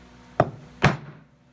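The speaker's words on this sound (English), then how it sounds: "Give it a couple hits, and that's going to dome that head on the rivet" Two sharp metallic hammer blows strike a piece of dished bar stock held over a rivet head to dome it, spaced about half a second apart, each ringing briefly before fading into quiet.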